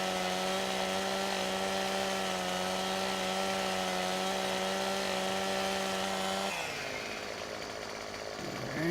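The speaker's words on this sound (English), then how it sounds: "We are going to cut some trees." A chainsaw cuts trees in the Farming Simulator 17 video game, a steady droning engine whine that shifts pitch near the end as the cut changes, loud and alone.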